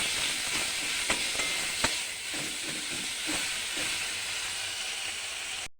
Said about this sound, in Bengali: আদা বাটাটা দিয়ে দিলাম। এবার একটু ভালো করে কষবো